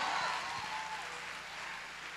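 A church congregation applauding during a Spanish-language sermon, a soft, steady spread of clapping heard from a distance, fairly faint and without clear voices on top.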